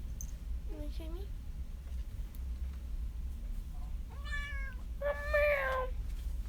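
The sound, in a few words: cat meowing, the workshop's Shop Kitty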